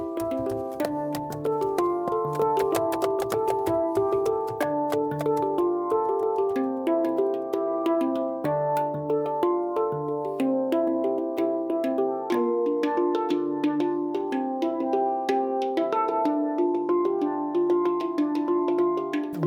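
Ringing metallic handpan notes struck by hand in a steady, flowing pattern, each tone sustaining and overlapping the next, played alone and fairly close.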